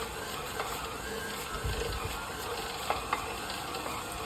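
Stand mixer kneading enriched sourdough brioche dough, a quiet continuous mechanical whir with faint rhythmic knocks and slaps of dough, close and steady, no voices.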